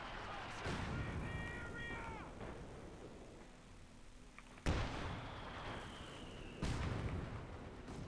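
Howitzer artillery in the game Company of Heroes 2 on a 4v4 Port of Hamburg map, two sharp booming shots fired a couple of seconds apart over busy battle ambience and game chatter.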